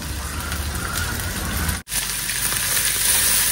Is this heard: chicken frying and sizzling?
yes